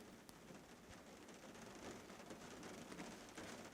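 Light rain falls during a Kansas deer hunt as it begins to ease off, an even, faint outdoor hiss of drops with no voices.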